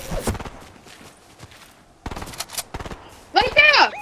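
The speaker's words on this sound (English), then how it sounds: "I hear gunshots!" Gunfire in a battle royale video game, with scattered shots in bursts at moderate distance followed by a tighter cluster of sharp reports, mixed with other game sounds.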